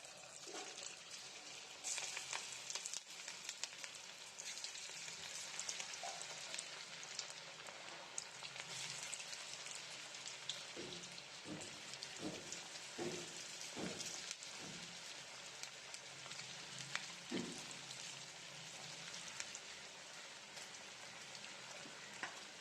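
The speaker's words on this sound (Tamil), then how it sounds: "இப்ப நம்ம ஃப்ரை பண்ணி எடுக்க வேண்டியதுதான். நம்ம ஃப்ரை பண்ணி எடுத்துக்கலாம்." Battered cauliflower pieces for restaurant-style Gobi 65 fry in hot oil, a steady close hiss and sizzle like rain that runs throughout, with a few faint pops and clinks midway and no talk.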